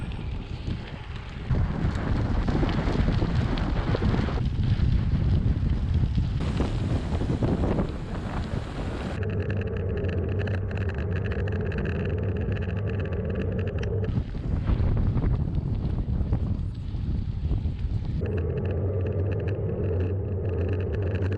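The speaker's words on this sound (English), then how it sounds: "I've got a lovely tailwind heading south" Steady, loud wind buffeting the microphone while cycling with a tailwind on a gravel road near Lovettsville, Virginia, a continuous roar that surges and eases, with no talk.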